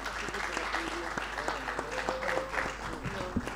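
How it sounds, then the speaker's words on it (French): Audience applause for the ladies at a French event, steady clapping throughout at moderate level with speech-like tones faintly mixed in. "Je vous prie d'applaudir pour les dames."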